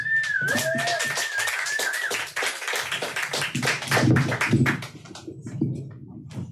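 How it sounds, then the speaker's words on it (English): A small audience at a live show applauds a performer, a brief cheer and whistle leading into a patter of scattered claps that thins out near the end. "Let's have another round of applause for Johnny Squires"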